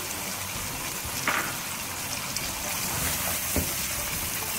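Korma for student biryani roasts in a pan with a soft, steady sizzle and a couple of faint clinks from stirring.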